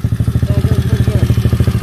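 Pitster 125 pit bike engine running steadily nearby, a fast even pulsing throb with a slight clatter, continuous and fairly loud throughout.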